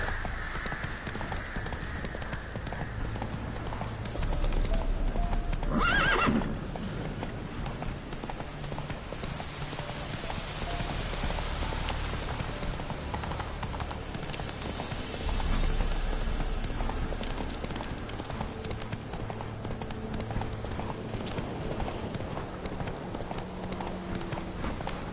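A horse gallops in The Witcher video game. The hoofbeats clip-clop in a steady, quick rhythm throughout, over soft ambient game sound, with brief louder swells partway through.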